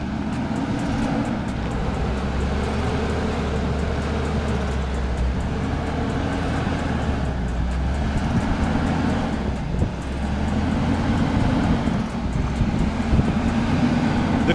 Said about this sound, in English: The car drives to the first obstacle, makes a stop, and then, with suspended wheels spinning, the Land Cruiser stands still.